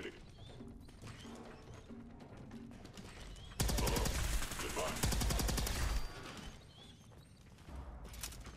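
Automatic gunfire from a weapon in Fallout 4 rattles in loud, rapid bursts, with a long sustained volley in the middle and a shorter burst at the end, with quieter mechanical clatter and game sounds between.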